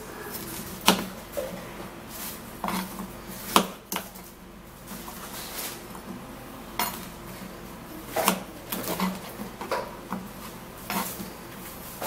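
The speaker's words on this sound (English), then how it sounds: "So now we have to cut the cucumber." A knife cuts through a cucumber on a kitchen surface, giving several sharp, irregular chopping knocks against the board with faint clatter of dishes and utensils in between, fairly close and with no voices.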